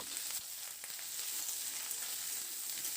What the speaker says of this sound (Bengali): হলুদটা দিয়ে সবজিগুলোকে মিডিয়াম ফ্লেমে খুব ভালো করে নাড়াচাড়া করে লালচা রং ধরা পর্যন্ত একটু ভেজে নেব